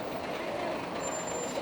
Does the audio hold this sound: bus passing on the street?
yes